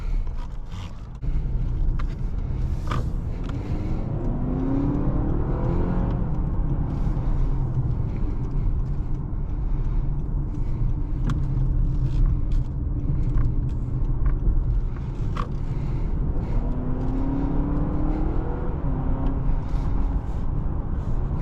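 A 2024 Honda CR-V Hybrid Sport accelerates on the road, with a steady, loud engine and road rumble heard from inside the cabin, building smoothly and staying continuous throughout with no talking.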